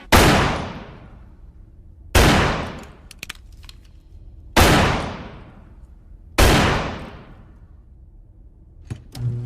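Four loud, evenly spaced gunshots at shooting practice, each a sharp close crack with a long decaying echo, followed by faint mechanical clicks near the end.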